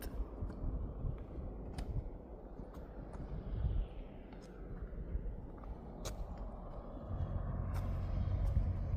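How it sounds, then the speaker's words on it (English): A truck rolls along a newly paved section of the Montego Bay bypass, a continuous low rumble swelling toward the end under heavy wind and road noise. "So that vehicle that you see, the truck here, is coming from the Cornwall Courts area."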